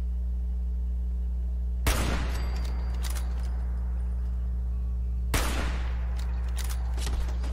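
Automated turrets in Fallout 4 open fire on the player in two sharp, loud bursts of gunfire a few seconds apart, each trailing into scattered shots and impacts over a steady low game hum.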